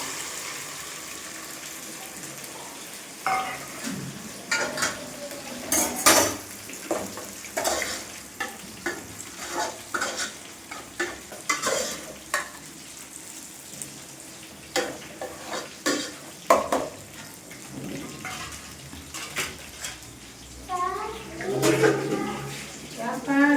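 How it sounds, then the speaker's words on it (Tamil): Ground ginger, garlic, onion and tomato paste fries in a pan for holiday cooking, with sizzling under repeated scraping and clattering stirs that come in irregular bursts close by. "இஞ்சி பூண்டு வெங்காயம் தக்காளி எல்லாம் பேஸ்ட்டாக அரைச்சிருக்கேன் இதையும் சேர்த்துக்கலாம்"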